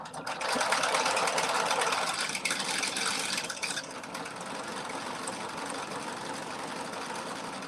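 A sewing machine runs steadily, stitching a buttonhole pattern in a straight line, loud and continuous with a brief surge in pitch before settling into an even whir.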